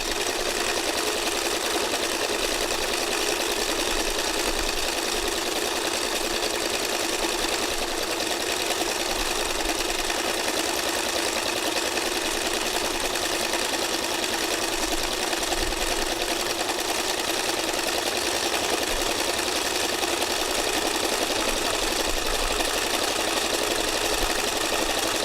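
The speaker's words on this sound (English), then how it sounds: "When you're free motion stitching like this" A sewing machine runs continuously for free motion stitching, a steady fast mechanical buzz and hum held at an even level throughout, without speech.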